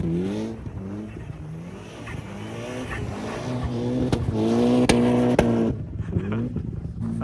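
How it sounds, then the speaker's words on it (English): Nissan GTR, an R32 or R34, revving hard on a street in Finland: a loud, close engine climbing through repeated rising pitches as gears change, with sharp pops and a brief drop near the end. "Oh, Jake's car sounds so sick."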